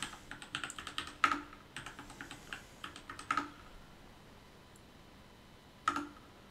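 Rapid typing on a computer keyboard while entering a password during a Linux account setup, a close, quiet run of clicks with a few heavier key strikes spaced through the sequence.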